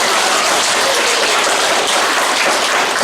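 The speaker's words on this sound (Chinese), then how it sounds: "给我一点掌声" Audience applause at a training meeting, dense and loud steady clapping from many hands filling the room without a break.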